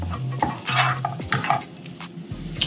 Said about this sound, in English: So, onions sweating down, smelling good.